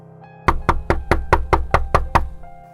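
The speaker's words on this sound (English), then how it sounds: "awoken from the dream by a strange tapping noise" Nine evenly spaced, sharp knocks tap out a steady rhythm over a faint low drone, loud and close, used as a scary story sound effect.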